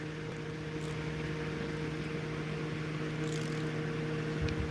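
Small fan whirring steadily inside a mini smoke machine for models, a constant motor hum with a fairly loud, even tone and faint rustling on top, no voices.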